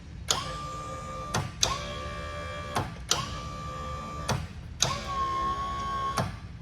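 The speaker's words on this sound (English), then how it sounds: "check out how nice and quiet this winch is compared to that old one that was on here." A quiet electric winch on a jon boat runs in four short bursts, each opening with a click and settling into a smooth, steady motor whine before stopping, close by with no talk.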